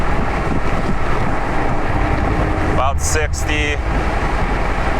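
Wind buffeting inside a Toyota Supra MKV cruising at roughly 50–60 mph, a steady loud broadband roar and throb filling the cabin, with someone talking briefly over it.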